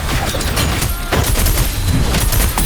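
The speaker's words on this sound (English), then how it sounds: "Another mortar thrown at us" A mortar blast in Wuthering Waves lands amid a loud, continuous wash of battle noise, with dense rumbling and crackling throughout.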